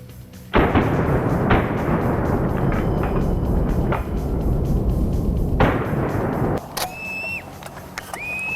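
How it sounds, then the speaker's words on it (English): Shotgun blasts from a Georgia duck hunt, two loud close booms each followed by a rolling echoing tail, then quieter outdoor ambience with a few high thin whistles or calls near the end. "Good shot, Brandon."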